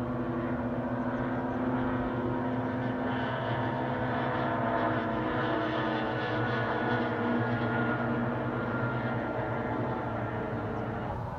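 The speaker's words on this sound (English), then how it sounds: "Getting ready for the miniature hydro races today. Kind of noisy here. It'll get a lot noisier. First race is off." Miniature hydroplane boats race on Lake Lawrence, giving a steady, fairly distant high-pitched engine whine that drones on without a break across the lake.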